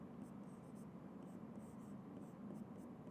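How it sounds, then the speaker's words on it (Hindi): A teacher writing a word on a board while drawing a graph: soft, faint scratchy strokes in short bursts under a low murmured voice. "उसके बाद नेक्स्ट क्या है सर, मेडिसिन, तो वो यहाँ लिख दो भैया, मेडिसिन।"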